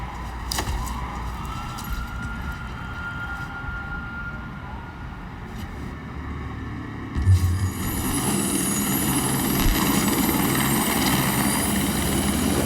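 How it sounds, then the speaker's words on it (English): A helicopter flies in a video game trailer scene, a steady broadband rotor and engine drone under background music and effects, getting louder and fuller about halfway through as the aircraft draws closer. "I do believe that is a helicopter."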